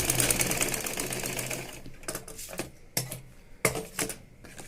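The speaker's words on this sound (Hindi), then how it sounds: "तो तुरपाई करने के लिए आप पहले इस पर हल्की सी सिलाई लगा लीजिए, बड़े बड़े टांकों वाली।" A sewing machine runs steadily for about two seconds, stitching blouse lining with long, loose stitches, then falls into several sharp mechanical clicks and clacks close by.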